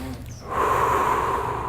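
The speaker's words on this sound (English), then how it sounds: "And it's just like that, deep breathing." A person takes a slow, deep breath as a breathing exercise, a soft airy rush that swells after a brief quiet start and holds steady, close and fairly loud, with no talking.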